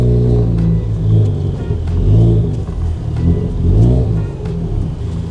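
A Ford Fiesta ST climbs up into a Jiffy Lube service bay, its engine revving and rumbling loudly in uneven surges as it strains over the lip, close by and with no talk.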